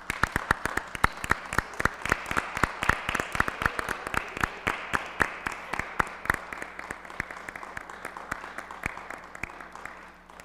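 An audience applauds honor students standing at a university honors convocation, with steady clapping in a large hall and sharp individual claps over a continuous wash, sustained for about ten seconds.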